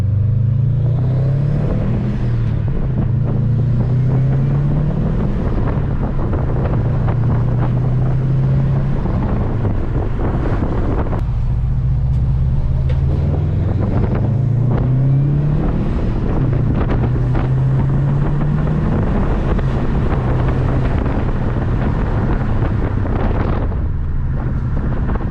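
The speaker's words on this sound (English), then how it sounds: "let's fire this thing up, take it up and down the road a few times" A Subaru STI with newly installed Brembo brake pads and rotors drives along a road, its engine droning steadily from inside the car beneath loud, constant wind and road rumble, with gear changes shifting the engine's pitch.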